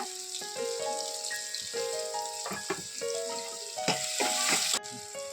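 Curry leaves sizzling in hot oil for a black-eyed bean curry, a steady crackling fry that holds throughout, close and fairly loud, with music playing and no talk.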